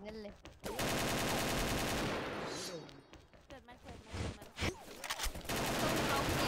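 Rapid automatic AK rifle fire in the online shooter XSHOT, loud dense bursts with short pauses, mixed with game effects and occasional voices.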